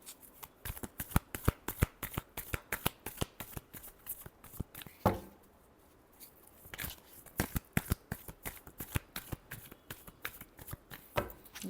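Tarot cards being shuffled by hand, a rapid run of crisp riffling clicks that pauses briefly near the middle, then resumes at a steady close-up rhythm, with no voices.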